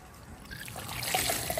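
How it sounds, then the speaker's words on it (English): Water drains out of a Fluval FX6 canister filter from a saltwater aquarium, a continuous trickling splash that grows gradually louder with bubbly gurgles toward the end. "So we're emptying the canister filter now."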